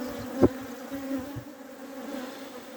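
Honeybees hum steadily around an open hive during a spring inspection in Adana, a soft, continuous buzz with a brief nearby knock or bump near the start.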